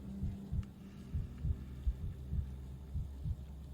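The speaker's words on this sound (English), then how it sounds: "His heartbeat is normal." Low, soft heartbeat thumps from the video game Pathologic 3 pulse at a steady, normal pace over a faint hum, with no talking.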